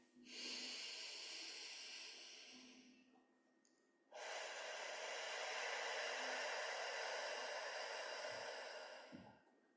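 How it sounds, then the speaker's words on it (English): Slow guided breathing: one long airy inhale-exhale, a pause, then a second long breath, each a soft steady hiss close to the microphone with no talking. "breathe in over 4 counts and then breathe out over 6"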